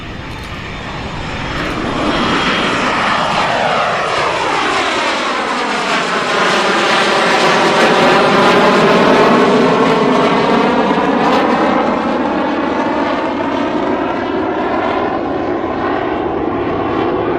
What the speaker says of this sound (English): you are about to experience a remarkable display of stick and rudder aerobatics